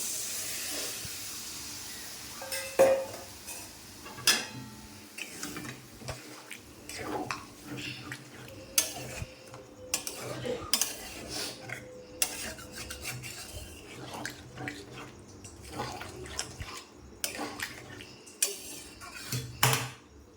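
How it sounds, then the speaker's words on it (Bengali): Boiled peas are stirred into a pan of frying mixture while making ghugni, with a metal spoon scraping and clinking against the pan over a soft sizzling hiss, in irregular close knocks. "এবার আমি সেদ্ধ মটরগুলো এর মধ্যে দিয়ে দেবো।"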